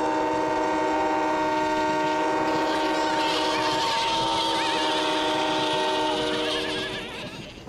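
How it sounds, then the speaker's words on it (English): Several cartoon train whistles blown together in a children's train animation, a loud sustained chord of bright harmonic tones lasting about six seconds alongside a rising warble, then fading out near the end. "Let's make the sheep scatter by blowing our whistles together!"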